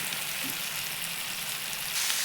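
Okra hits hot oil with mustard seeds and green chili paste, giving a steady, dense crackling sizzle that holds evenly throughout with no voices.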